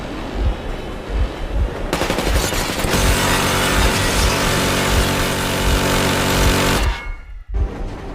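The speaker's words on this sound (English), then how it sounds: "That was just a warning. If you do not comply, we will shoot to kill." Machine gun warning fire in the Metro Exodus video game: a loud, sustained burst of rapid automatic shots lasting several seconds, preceded by heavy rhythmic thumps and ending abruptly.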